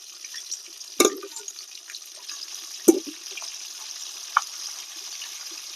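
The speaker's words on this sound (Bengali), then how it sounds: "এবারে মাছটা ভেজে নেব" Sarpunti fish frying in hot oil in a wok, a low continuous sizzle with a few sharp spatters and clacks standing out, close and moderately quiet, no speech.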